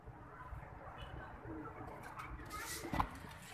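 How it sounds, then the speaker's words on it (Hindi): Soft pigeon cooing close by, low murmuring calls amid light rustling and a faint background hum. "ये आए हैं जी कबूतर अपने, ये उतरते हैं अभी"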